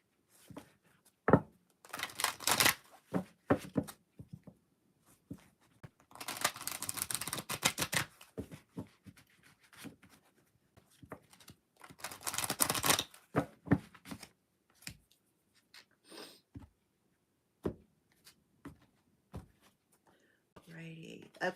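Tarot cards being shuffled in bursts of crisp riffling and slapping, with several clusters of papery flutter separated by quieter handling clicks and scattered taps.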